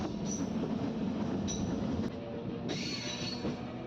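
A MEMU commuter train runs along the rails near Guntur, a steady loud rumble with wheel squeal and brief higher screeches, heard from on board with no voices.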